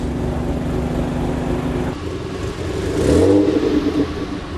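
A Noble M400 sports car engine hums steadily, then drops briefly before revving up louder around the middle, with a whirring pump undertone and no voices.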